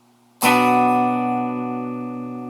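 A single chord struck on a guitar, rings out sharply then sustains with a slowly fading tone, alone.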